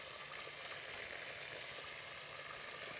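Shish tawook pieces frying in oil and butter in a pan, giving a steady, even crackling sizzle at low volume throughout, with no voices.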